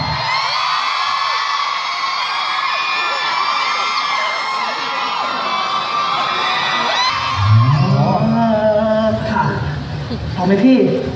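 A crowd screams and cheers for a singer at a song launch event, a dense, loud, sustained roar of shrill voices, with louder bursts of speech and shouting breaking through near the end.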